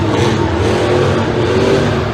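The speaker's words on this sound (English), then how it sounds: "I want to hear that truck being sent" Monster truck engine roaring at a Monster Jam World Finals freestyle event, a loud sustained revving drone that holds steady throughout with no break.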